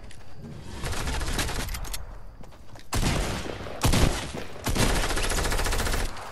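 Video game gunfire, rapid automatic bursts in several loud volleys separated by short pauses, with no talk over them.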